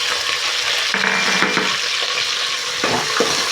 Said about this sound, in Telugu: బాగా ఫ్రై కావాలి ఆయిల్లో.